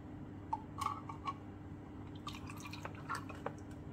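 Liquid poured into a jar for growing ADP and alum crystals, heard as a few close, faint drips and small splashes spread irregularly over a steady low hum.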